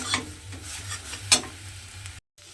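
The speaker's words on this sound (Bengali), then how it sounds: "তেলের মধ্যে আমি ডিমটা দিয়ে দিলাম, দিয়ে এবারে ডিমটাকে কিন্তু এইভাবে একটু যেভাবে ভুজিয়া বানায় ডিমের, সেভাবে কিন্তু ডিমটা ভেজে" An egg sizzles steadily in hot oil in a pan as it is stirred and scrambled into a bhujia, with the gentle scrape of a spatula and a brief sharper clink partway through.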